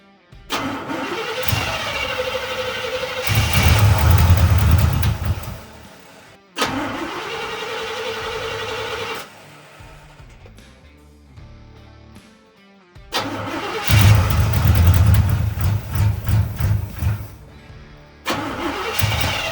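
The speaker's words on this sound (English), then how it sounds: "Second attempt to try to get this thing fired up." An old Chevy engine cranks and catches in repeated bursts, loud and close, with the starter grinding and the motor briefly firing and revving between quieter pauses.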